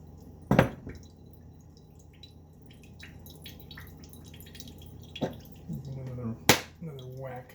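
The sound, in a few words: hammer whacking a coconut shell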